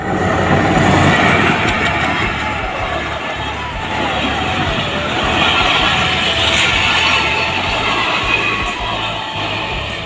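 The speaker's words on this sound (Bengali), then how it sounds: "ফাইনালি একটা ট্রেন চলে এসেছে।" A train rumbles past loudly and continuously, a dense mechanical roar, with faint crowd voices mixed underneath, at Shologhor Bazar in Munshiganj, Bangladesh.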